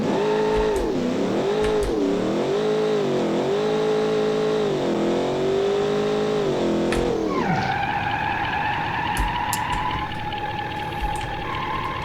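A custom car engine in the BeamNG driving game revs up and down in repeated gruff, harmonic surges, then shifts to a higher, steadier whine with tire noise; loud and close, with no talk.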